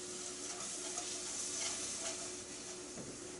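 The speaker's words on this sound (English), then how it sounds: "And stirring with our whisk so that we don't get lumps." Whisk stirring milk into a sauce in a pot on medium heat, a soft continuous hiss and gentle swirling scrape, quiet and steady with no talking.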